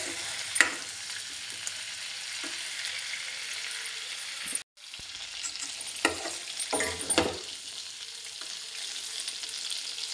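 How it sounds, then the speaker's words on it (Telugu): Prawns coated in turmeric sizzle in hot oil, a continuous close crackle with a few louder stirring scrapes and a brief dropout partway through, no talking. "సో పసుపు వేసుకొని ఆయిల్లో ఇలా ఫ్రై చేసుకొని సైడ్కి తీసేసుకోవాలి."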